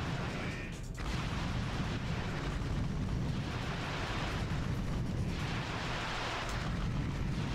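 Booming, explosive shots from the Rhino weapon hammer a boss in the 2002 Ratchet and Clank, a steady roar of blasts and rumbling mechanisms that never lets up.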